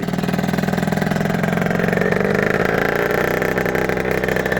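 A Yamaha TZR motorcycle engine runs loud and close, idling with a rapid, even two-stroke pulse and a slight rise in revs, with no talk over it.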